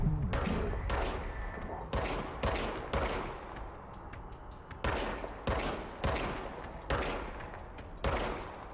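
A gun fires in the action game Control, giving about ten sharp, loud shots in an irregular rhythm over a busy layer of game sound.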